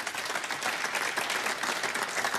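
Snooker audience applauding a safety shot at the 2017 Scottish Open quarter-final, a steady burst of clapping from a seated hall crowd, even and sustained throughout.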